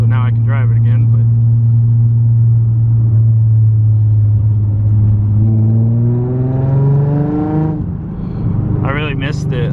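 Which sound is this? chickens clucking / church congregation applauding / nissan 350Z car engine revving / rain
nissan 350Z car engine revving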